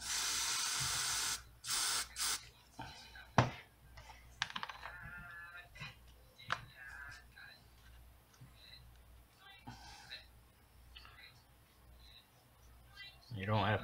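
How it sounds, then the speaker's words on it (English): Hairspray from an aerosol can sprayed into a cup, a loud hissing burst at the start followed by short bursts, with quieter clatter and a person talking afterward. "So what I'll do is I'll just spray some in this cup."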